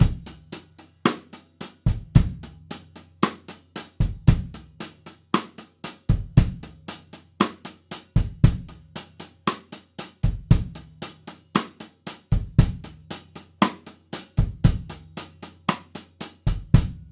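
A steady 16th-note drum groove with kick and snare under a driving hi-hat where every hit is strongly accented, giving a punchy, aggressive feel.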